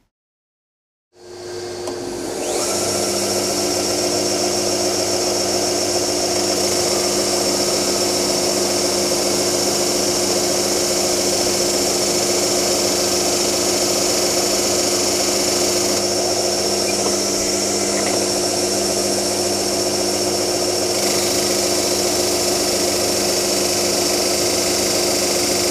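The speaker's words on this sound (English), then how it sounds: "So what we're going to do is just sand these to form the bevel." A power sander grinding a bevel onto wooden box pieces starts up after a moment of silence and then runs loud and steady with a constant motor whine, its tone shifting slightly as the wood is pressed against it.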